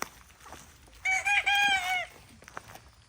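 A rooster crows once on a South Carolina farm, a single clear call about a second long, with softer chicken clucks and faint farmyard noise around it.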